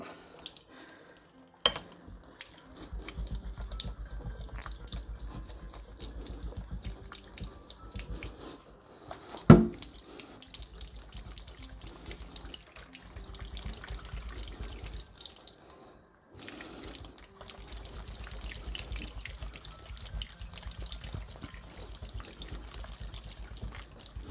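Tap water runs steadily over an Imperial LaRocca Premium synthetic sharpening stone used for straight razors, a continuous hiss and patter broken by a couple of sharp knocks near the start and middle.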